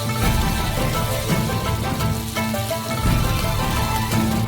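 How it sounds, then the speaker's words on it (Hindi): Black beans fry in a frying pan with a dense, continuous sizzle and crackle, with steady musical tones underneath. "सबसे पहले उन्हें थोड़ा भूनते हैं।"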